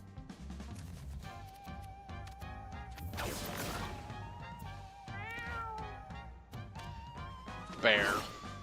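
Cartoonish cats meow in the video game Mewgenics, with several short meows and a sharp, rising cry near the end, heard under a person talking over light game effects.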